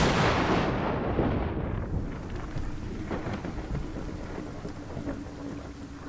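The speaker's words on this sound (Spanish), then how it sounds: "La lluvia empezó a caer." A heavy thunderstorm opens with a loud, rolling thunderclap that slowly fades into a dense, steady wash of rain falling close by, with scattered drop impacts and no voices.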